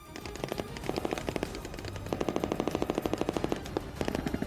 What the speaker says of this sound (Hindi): नेवी के जवानों ने समंदर में गोलियां बरसाकर दुश्मन को चेतावनी दी।